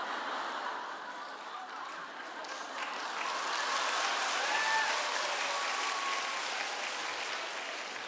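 An audience applauds during a Wednesday worship service sermon, a dense, steady wash of clapping that swells slightly midway and holds for the full stretch, with no talking over it.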